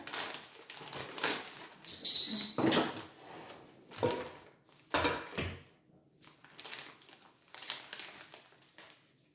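Gluten-free shortcrust dough being mixed from flour, sugar and an egg: scattered clinks and scrapes of a utensil against a bowl, with a few sharper knocks and rustles, close and moderately loud with pauses between.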